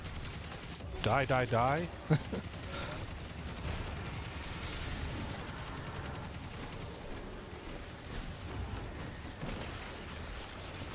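Machine gun fire in Destiny 2, a rattling burst under a shouting voice early on, then steady chattering gunfire and combat noise continuing at moderate loudness.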